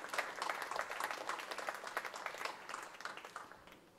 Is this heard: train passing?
no